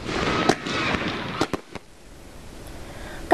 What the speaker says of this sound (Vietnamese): Cuối ngày hội, bà con đã được thưởng thức một màn pháo hoa đón Tết mừng xuân rực rỡ.